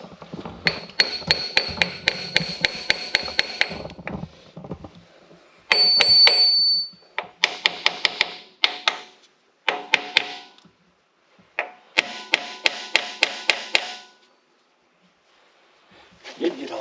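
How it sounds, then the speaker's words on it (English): A hammer tapping out a front axle seal on a Kioti CK2610 tractor: rapid bursts of sharp, ringing metallic taps in quick runs with short pauses between, close and loud, with brief talk in between. "I'll give that a few taps and see if I can get it to come out now"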